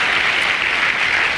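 A dense, steady wash of crowd applause holds at full loudness throughout, many hands clapping together with no pauses or voices standing out.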